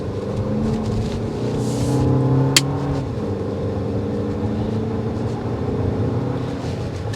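A Lexus TX's engine accelerating on a test drive, heard from inside the cabin as a steady, moderately loud drone with a low rumble and rising harmonic tones, and a brief click midway.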